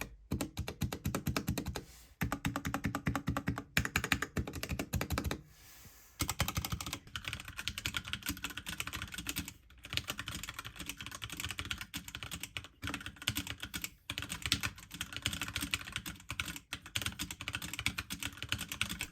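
Rapid clacky typing on a HyperX Alloy Origins 60 mechanical gaming keyboard with HyperX Aqua switches, close and continuous with a few brief pauses between bursts.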